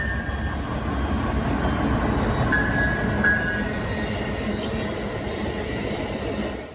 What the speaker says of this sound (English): I saw one Amtrak train on the CSX RF&P subdivision.